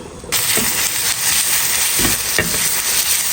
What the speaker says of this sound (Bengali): আর রসুনগুলো ভাইজা নিতেছি